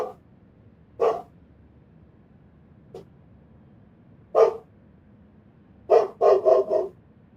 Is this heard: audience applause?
no